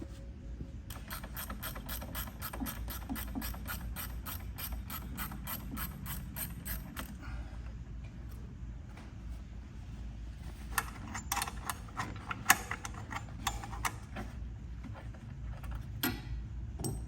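A ratchet loosening a bracket bolt on a Kubota ZD21 mower, rapid close clicking strokes at the start, then slower, irregular ratcheting and metallic taps.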